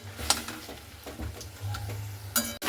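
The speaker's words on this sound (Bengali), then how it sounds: "ধনে পাতাটা দিয়েও একটু এইভাবে একটু নাড়াচাড়া করে নিচ্ছি" Chopped coriander leaves stirred in a pan with bottle gourd leaves for a mash, close spatula scrapes and taps in an uneven rhythm over a faint low sizzle, with a sharp clack near the end.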